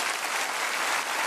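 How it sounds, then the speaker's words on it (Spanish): A church congregation claps steadily together, a dense, even burst of applause that fills the moment without voices. "Un fuerte aplauso."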